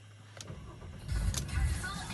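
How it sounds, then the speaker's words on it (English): A Mercedes-Benz C350 Elegance Estate automatic with 32,381 miles starts up nearby. A short crank is followed by a low engine rumble that swells and holds steady at idle. "we'll just start the car up and show you a couple of features"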